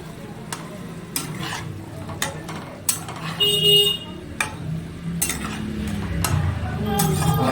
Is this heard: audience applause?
no